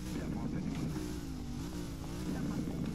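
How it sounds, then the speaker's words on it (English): A twin-charged car with both turbo and supercharger, in Southwest Florida, gives a loud, steady low engine rumble with a slight rise and fall in pitch, close by. "Listen to that turbo."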